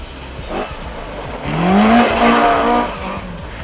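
A Toyota Starlet rally car at speed on the Black Bess stage in St. Peter, Barbados, its tires squealing loudly in a long, rising skid under a steady engine roar.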